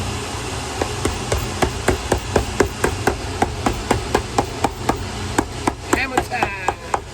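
Steady hammer blows on a Ferragamo boot during repair, about twenty-five sharp, evenly spaced strikes, close and loud, with no talking.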